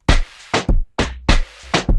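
Halftime drum pattern of kicks and snares slowed with Gross Beat for a moombahton remix: loud, bright, slightly smeared hits in an uneven swung rhythm, with low bass under some strikes.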